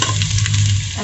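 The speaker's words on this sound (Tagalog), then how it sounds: "Unahin natin ang bawang" Garlic frying in a pan for chicken curry, a brief loud, steady sizzle with a stirring rustle.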